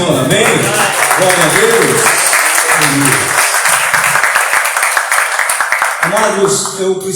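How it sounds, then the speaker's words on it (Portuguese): A church congregation applauds loudly and continuously, a dense wash of clapping with voices calling out over it before it thins toward the end. "aplauda o Senhor"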